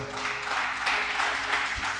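A church congregation applauds during a service, a moderate, steady patter of many hands clapping together, with low hum beneath it.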